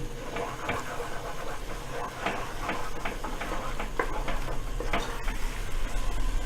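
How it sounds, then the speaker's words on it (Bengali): Ketchup, about three tablespoons, goes into a hot pan while cooking spicy pasta, giving a steady close sizzle and frying hiss with stirring scrapes throughout. "তিন টেবিল চামচের মতো কেচাপ দিচ্ছি।"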